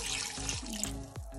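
Water runs steadily from a tap into a cooking pot of chicken feet adobo being simmered to tenderize, a continuous close pouring hiss with a few small clinks along the way.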